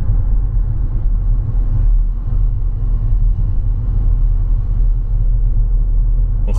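A car's engine rumbles low and steady on a mountain road, a continuous loud drone from inside the vehicle with no voices.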